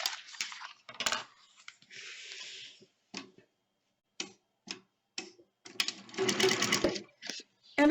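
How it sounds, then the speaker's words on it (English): A sewing machine stitches along a fabric edge in short bursts of rapid mechanical whirring and ticking, close and clear, separated by pauses with small clicks and taps in between. "So I'm just going to sew right along this edge,"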